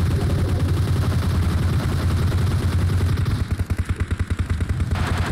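Gunfire in a shooting video game: a steady, loud background of shots that turns into a fast, regular burst of automatic fire near the end.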